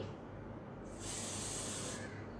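A single one-second burst of Taft strong-hold hairspray hisses from an aerosol can, a close, bright spray rising over faint room noise and stopping cleanly.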